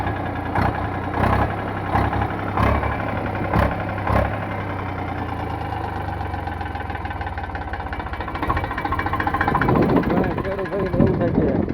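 A used tractor on sale in Amreli idles with a steady low engine rumble, close and continuous, while people talk over it throughout.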